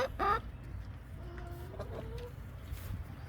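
Chickens cluck in short bursts at moderate distance on a backyard farm, with one louder squawk at the start over a low steady background hum.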